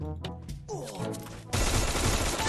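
Gunfire in the mobile shooter Free Fire. Game sounds and chatter come first, then a sudden loud, dense burst of rapid shots fills the second half.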